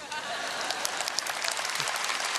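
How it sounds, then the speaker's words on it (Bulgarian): Steady applause from a concert audience, a dense, even wash of many hands clapping that carries on throughout at moderate volume. "Аплодисменти."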